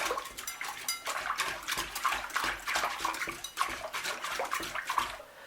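Water poured into a creamy yoghurt mixture and stirred in a bowl, giving continuous sloshing and scraping with rhythmic splashy swirls, close and moderately loud throughout with no talking.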